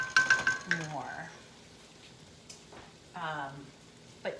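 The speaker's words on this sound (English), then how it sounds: "Now I'm putting in the jackfruit." Jackfruit drops into a pan of onions and garlic with a burst of clattering and sizzle, followed by faint frying and occasional scrapes while someone talks over it.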